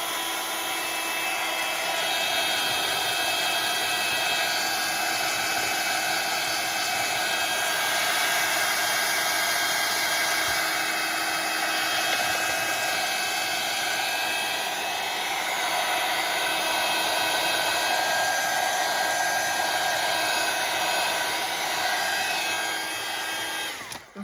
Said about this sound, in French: Je vais prendre le heat gun pour sécher un petit peu.